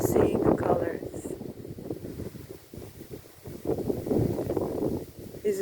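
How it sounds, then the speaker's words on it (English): Gusty wind on an afternoon outdoor path buffets the microphone in swelling and fading rushes, while a person talks over it. "hearing the wind"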